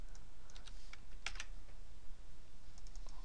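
Computer keyboard keys tapped in short bursts while entering Excel 2010 shortcuts such as Control V, crisp close clicks with gaps between presses.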